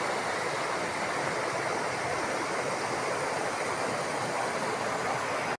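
A river near Puncak 2, Bogor, rushes in a steady, dense, close wash of flowing water that fills the whole stretch before cutting off abruptly.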